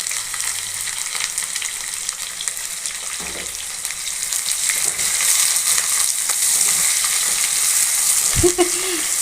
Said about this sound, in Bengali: এবার দেবো আমি পেঁয়াজ কেটে রেখেছিলাম ছোট ছোট করে।